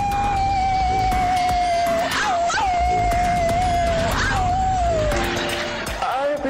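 Worshippers at a Toronto Blessing revival gathering imitate dogs and other animals: a sustained, wavering howl-like voice with gliding pitch drops runs throughout, over a dense background of crowd noise.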